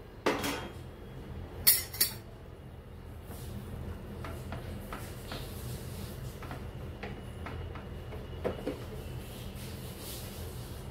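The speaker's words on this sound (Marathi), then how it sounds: "तर आता मी ताटात काढून घेऊया." Veg biryani being served from a pot onto a plate: a few sharp metallic clinks of a spoon against the pot and plate near the start, then quieter scraping and light taps over a steady background hum, with no talking.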